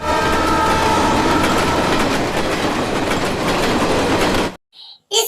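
The Mahananda passenger train rolls along the rails in a loud, steady rumble with rhythmic clatter of its wagons. It cuts off abruptly near the end, followed by brief faint sounds.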